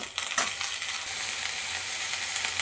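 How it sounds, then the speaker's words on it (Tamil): Onions, curry leaves and tomatoes sizzle and fry in a pan for masala rice, a steady close hiss with a few stirring scrapes and no talking. "அப்புறமா இதில் 2 தக்காளி, இதை போட்டு நல்லா வதக்கிக்கோங்க."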